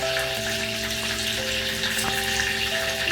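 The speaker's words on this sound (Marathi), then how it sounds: "कढीपत्ता टाकल्याच्या नंतरला आपण थोडी राई टाकायची आणि थोडंसं जिरा टाकायचं आणि एकदम थोडीशी मेथी टाकायची." Mustard seeds, cumin and fenugreek sizzling in hot oil with curry leaves, a dense, even hiss of frying held close and loud throughout, with no voices.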